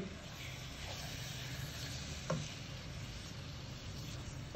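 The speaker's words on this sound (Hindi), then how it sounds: "थोड़ी सी लाल मिर्च शामिल करेंगे और थोड़ी देर इसको इसी तरीके से भूनेंगे" Masala with red chili and salt frying in a pan for chicken korma, giving a steady, close sizzle that runs unbroken throughout, with a brief utensil tap partway through.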